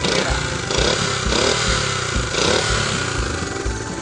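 A 1970 Honda CT90 motorcycle engine runs steadily and close by at a medium pitch, with a few slight swells in revs over a continuous mechanical drone on a bumpy backcountry trail.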